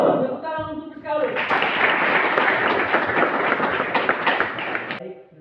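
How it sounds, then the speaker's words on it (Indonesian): Audience applause breaks out after a short stretch of talk and continues as dense, steady clapping for several seconds, fading away near the end. "Tepuk tangan untuk sekali."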